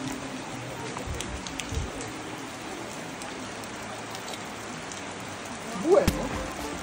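Steady rain falls in a quiet residential neighbourhood, a continuous soft patter of drops on surfaces, with a brief louder splash or knock near the end.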